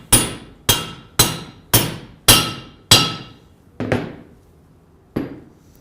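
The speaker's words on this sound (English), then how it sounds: "now he's going to insert the external part of the bearing." Hammer blows drive the outer race of a bearing into a machine casing during reassembly: six sharp, ringing metallic strikes at a steady rhythm, then two softer, spaced taps, close and loud with no talk.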